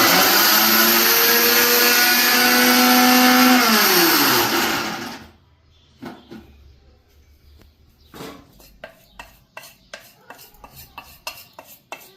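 A kitchen mixer grinder blending chutney gives a loud, steady motor whine that winds down in pitch and stops. Sharp clatters and scrapes follow as the jar is handled and emptied.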